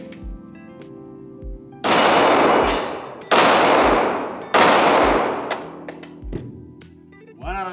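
A Glock 48 pistol fires a few loud, sharp shots spaced a second or so apart at a range, each crack followed by a ringing decay, with quieter clicks and handling noises between them.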